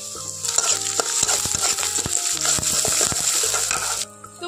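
Chopped onion and garlic frying in a pan, a loud steady sizzle broken up by clinks and scrapes of stirring, ending with a sudden drop near the close.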